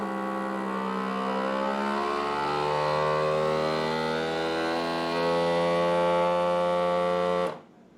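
A countertop vacuum sealer set to moist mode pumps air from a bag and seals it, a steady loud motor drone with strong harmonic hum holding for about seven seconds before cutting off abruptly.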